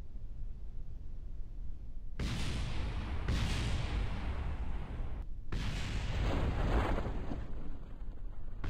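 Falling rocket debris exploding in Kerbal Space Program, with heavy booming blasts and long rumbling roars that come in two big waves, loud and continuous.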